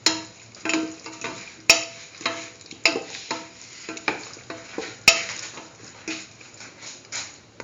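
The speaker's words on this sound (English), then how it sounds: "Thoroughly saute mix." A broccoli and potato mixture is sautéed in a pan, with rhythmic scraping strokes of a utensil and sharp clicks against the pan over a light sizzle, steady and close.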